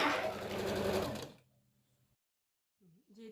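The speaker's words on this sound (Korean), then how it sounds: "요 뒤에 부분이 감싸질 수 있도록 약간 더 안으로 해서 박음질 하겠습니다." A home sewing machine stitches fabric for an air fryer cover in a fast, steady, close run that stops after about a second and a half. A low hum follows, then a brief voice near the end.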